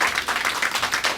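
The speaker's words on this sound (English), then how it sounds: "Thanks for clapping." An audience at a late-night comedy improv set claps in a brief, dense burst of applause with no voices over it.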